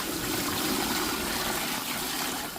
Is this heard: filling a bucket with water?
yes